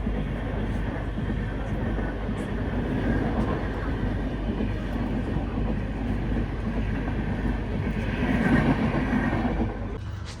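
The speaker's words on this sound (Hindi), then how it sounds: "लो भाई, ये दूसरा ओवरटेक पड़ता हुआ चेन्नई एकता नगर सुपरफास्ट।" The Chennai–Ekta Nagar superfast express passes on an adjacent track while overtaking, heard from inside a moving train as a loud continuous rumble and rattle of wheels that swells toward the end.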